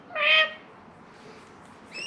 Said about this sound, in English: Fucking birds, bro.